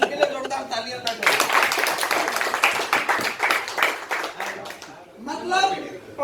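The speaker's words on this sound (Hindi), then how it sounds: "इन सबके लिए जोरदार तालियां बजाओ" Audience clapping at a company product-knowledge session, a dense burst of hand claps running for several seconds under and alongside speaking voices, fading briefly before picking up again near the end.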